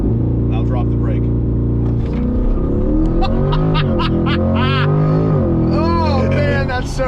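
A car's engine idles with a low, even drone, then the brake is dropped with the throttle floored and the revs climb and waver in a loud launch, while people talk and react excitedly over it.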